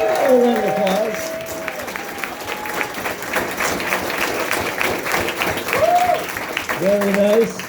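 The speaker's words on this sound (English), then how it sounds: "Another round of applause." Audience applause at an evening political campaign event in a bar, a steady wash of clapping and crowd noise between bursts of a speaker's amplified voice at start and end.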